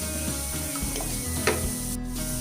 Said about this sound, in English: Now after adding the water, you can then once mix this with the rest of the gravy.